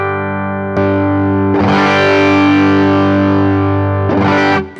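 A 2020 Fender Ultra Stratocaster with HSS Alnico pickups runs through a Rook Audio Fortune germanium-style boost pedal into a Fender Deluxe Reverb amp, sounding loud sustained chords with a strum, a long ringing hold and another strum near the end.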